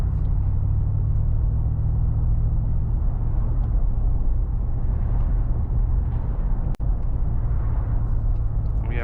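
A 2025 Mercedes-AMG G63 SUV's engine rumbles low and heavy, a deep steady idle throb that shifts slightly in tone partway through and is broken by one sharp click near the end.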